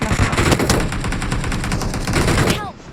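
Rapid bursts of video game gunfire, loud and dense like automatic weapons, ending abruptly.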